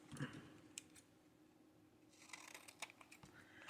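Scissors snip and trim a paper tag base for papercrafting, giving a few soft, close cuts and crinkles at the start, then a quiet pause before a busier run of snipping and rustling.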